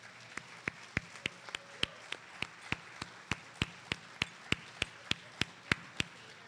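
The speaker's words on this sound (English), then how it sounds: "How about a big round of applause for everyone?" Audience applause for four finalists coming up on stage to receive medals at the Great Think-Off, a debate contest at the New York Mills Cultural Center. Sounds like a sparse, evenly spaced run of sharp claps, fairly quiet.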